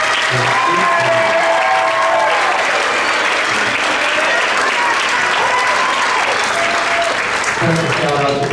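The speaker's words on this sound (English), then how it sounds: "Round of applause for the 8th graders." Sustained audience applause at a school winter concert, dense and loud clapping throughout with a few voices in the crowd.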